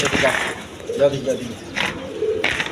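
Pigeons kept for breeding coo softly in short, repeated phrases, a few murmuring calls spread across the moment and fairly near, with someone talking over them.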